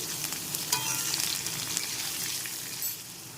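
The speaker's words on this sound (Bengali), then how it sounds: "এখন আমি টমেটো দিয়ে এই সবজিগুলো একটু নেড়ে চেড়ে ভেজে নিচ্ছি" Vegetables with tomato fry and get stirred in a pan for a vegetarian sago khichdi, a dense close sizzle with scraping stir strokes near the start, loud and continuous without speech.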